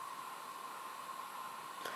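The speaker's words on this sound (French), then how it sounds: "je passe le sèche-cheveux sur la partie basse de l'iPod Touch pendant environ une trentaine de secondes" A hair dryer blows on the lower part of an iPod Touch 4G to soften the glue, giving a steady, faint whooshing hiss with a constant hum that runs throughout.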